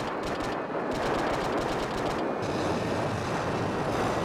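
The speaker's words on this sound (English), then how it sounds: "Now we're gonna open up with some machine gun fire." Rapid machine gun fire rattles from a vehicle in the Homebrew Vehicle Sandbox game, a dense, loud, unbroken burst of shots with no talk over it.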